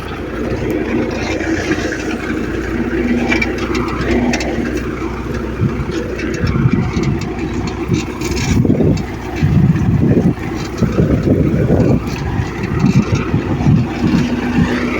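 A MTZ-82 tractor engine runs steadily in third gear with the reduction gear engaged while pulling a KRN-1.4 cultivator through a watermelon field, a continuous low rumble with some wind noise and louder surges toward the end.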